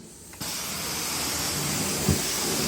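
A carpet cleaning wand begins steam extraction on a carpet, switching on abruptly into a loud, steady hiss and suction roar that holds constant, with a brief thump midway.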